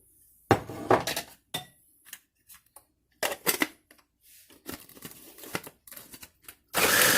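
Ginger and garlic being chopped on a board for a paste, a series of sharp knife knocks in uneven bursts with short pauses, close and fairly clear.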